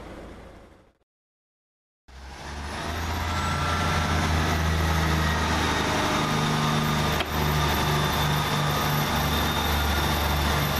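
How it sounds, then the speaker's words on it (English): A freight train rolls through Southampton Airport Parkway station on its run from Hams Hall into Southampton MCT, surging in loud and close after a brief silence, then holding a steady heavy rumble with a low engine drone as the wagons pass. "Yep, it's a freight train."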